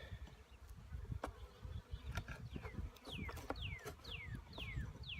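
A steady, dense hum of many honeybees from a package being installed into a hive fills the air, with some brief bird chirps and faint handling knocks over it and no one speaking.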